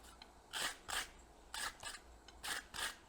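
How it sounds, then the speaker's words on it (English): A brush scrubs across hot steel during forge welding, giving six loud, harsh scraping strokes grouped in quick pairs with brief quiet gaps between them, and no talking. "Give it a quick swipe with the brush on both sides"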